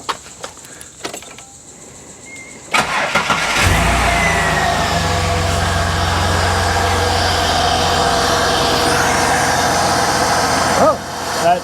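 Holden VR Calais engine cranks briefly and catches, then settles into a steady, loud idle close by, with a small blip near the end; a few clicks and handling noises come just before the start.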